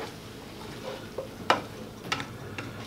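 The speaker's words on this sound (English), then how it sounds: "Now we're going to take half of the meat mixture and put it in here." A spoon scoops meat mixture from a hot pan into a tortilla pie dish, producing soft scraping stirs and a few light clicks against the pan over a low sizzle, close and quiet.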